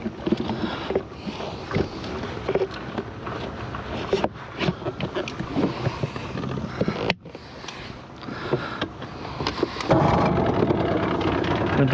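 A 1979 Evinrude 35hp outboard motor runs on a boat with its silencer removed. It gives a continuous, close, rough engine drone with water splashing, and the motor surges louder near the end.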